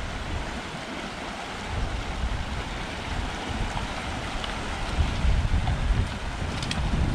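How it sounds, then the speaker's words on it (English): Strong, steady wind roars outdoors on a long-distance hiking route near a river crossing, a dense broadband rush with gusts swelling toward the end. "Windy, hey? Very windy."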